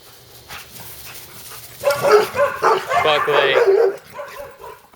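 A golden retriever–poodle mix dog whimpers and lets out yipping barks in a close, excited burst, with a person speaking over it.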